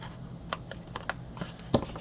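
Paper being folded up and pressed down firmly while making a 3.5 x 3.5 x 2 inch gift box: scattered soft crinkles and rustles with a few sharper creasing taps, close and fairly quiet, with no talking.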